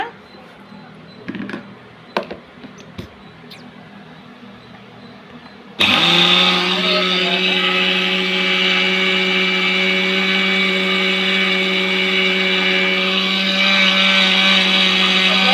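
A kitchen mixer grinder grinding fenugreek seeds into powder starts abruptly after a few light clicks and taps, then whirs loudly and steadily with a high motor hum to the end.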